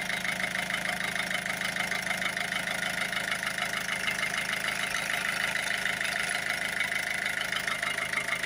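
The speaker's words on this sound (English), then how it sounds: "I don't know if you could hear me there over the engine" A Volvo C30 1.6 HDi diesel engine with a blocked particle filter idles steadily and close, a constant even rattling hum with no change in pace throughout.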